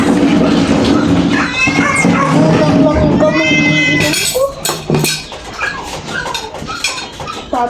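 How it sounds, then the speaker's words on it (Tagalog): A cat meows loudly and repeatedly up close, drawn-out wavering cries, with people chatting in the background. "ang ingay ng pusa namin"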